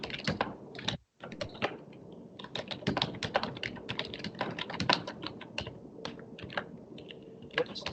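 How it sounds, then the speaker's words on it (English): Typing on a computer keyboard during an online meeting: steady, close clatter of keystrokes with one brief pause, picked up by the microphone. "When you're typing, it's blocking out what you're saying. So we just hear the keypad."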